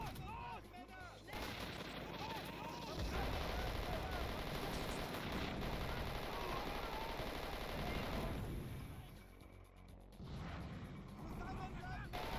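Rapid, continuous gunfire from a weapon in Doom 2 with the Zeppelin Armada mod, firing steadily for several seconds until it overheats. The sound is dense and loud, with a short lull and a brief resumption near the end.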